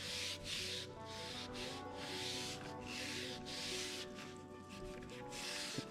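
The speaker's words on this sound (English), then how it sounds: "we're going to move on to 400 grit sandpaper after this" Sandpaper rubbing back and forth along a wooden guitar neck, steady scraping strokes repeating close by at a moderate level with no talk.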